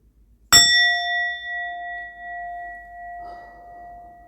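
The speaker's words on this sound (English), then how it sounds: "Let me go ahead and ring my bell." A meditation bell struck once: a bright metallic strike followed by a long, steady, singing ring that slowly fades, close and fairly loud, with faint rustling near the end.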